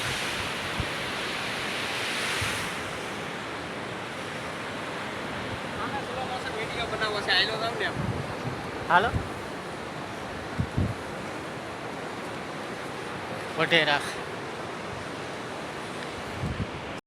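Sea waves wash steadily onto the shore at Vadhera near Jafrabad, mixed with wind noise, and a voice calls out briefly over the continuous surf.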